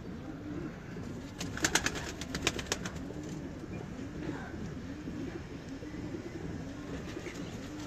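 Pigeons coo in a steady rolling pattern, low throaty calls repeating through a loft in Faisalabad, moderately near over a noisy background, with a brief burst of clattering and a voice now and then.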